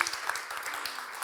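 Audience applause at a talk on LGBTQ+ memory in Ukraine, a dense steady patter of clapping from a room that goes on evenly for about a second without a break.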